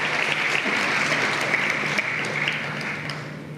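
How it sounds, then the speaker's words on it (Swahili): An audience at a human rights defenders' coalition anniversary gathering gives sustained, dense applause for the President, steady and fairly close, fading slightly toward the end with no voices over it. "Piga makofi kwa Mheshimiwa Rais."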